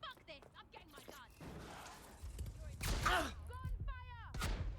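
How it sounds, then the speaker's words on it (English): Gunfire in the video game Watch Dogs: Legion bursts out in a few loud, sharp volleys amid excited shouting voices and chaotic background noise. "Gunfire! People!"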